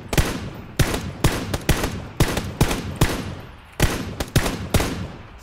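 Gunfire in the battle royale game PUBG: loud, close bursts of rapid automatic shots repeating in quick rhythmic volleys with brief pauses between them, with no talk over it.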